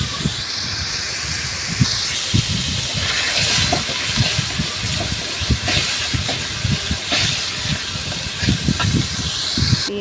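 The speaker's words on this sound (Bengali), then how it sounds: "আর একটা কড়াই কড়াইতে তেল দিয়ে পেঁয়াজ রসুন বাটা" Steady loud hissing sizzle of onion and garlic paste frying in hot oil in a wok, with crackles and pops throughout.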